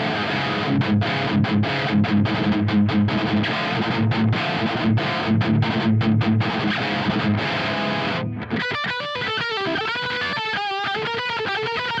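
A distorted metal guitar rings out through an ENGL E530 preamp's lead low-gain channel into a Peavey 6505 power amp, with tight palm-muted chugging riffs, then a held sustained passage with wavering bends, loud and close throughout.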